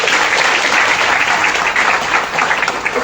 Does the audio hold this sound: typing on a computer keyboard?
no